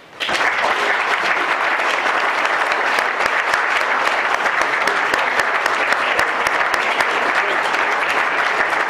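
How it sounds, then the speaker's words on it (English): Warm, sustained applause from an audience at an interview and discussion event at a Goethe-Institut begins abruptly and holds a loud, even, dense clatter for several seconds. "give Wolfgang a warm applause."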